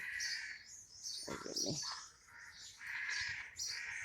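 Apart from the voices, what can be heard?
morning birds chirping and crows cawing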